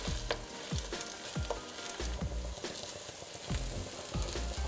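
Zucchini fritters fry in a little oil in a pan, making a steady close sizzle broken by repeated soft thumps as they are pressed down and moved around.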